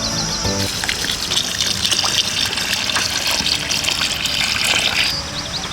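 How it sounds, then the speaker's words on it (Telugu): Water pours steadily into a container of rice and lentils, a loud continuous gushing trickle close by that stops near the end. "వాటర్ పోసేసుకుందాం."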